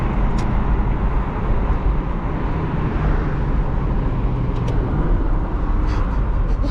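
Top-down drive in a 2008 Aston Martin Vantage V8: a steady, loud blend of engine drone, wind rush and road roar runs unbroken throughout, with no talk over it.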